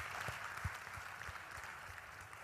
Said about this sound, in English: a round of applause for all the panelists